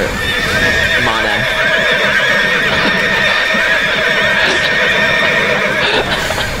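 Horse in the game TERA neighing and whinnying with clip-clop hooves, loud and steady throughout, set against dense game music and effects, no talk.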